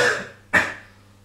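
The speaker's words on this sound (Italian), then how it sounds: "Tossisci di nuovo." A single sharp cough bursts out midway, preceded by a softer breathy exhale, close by in a quiet room.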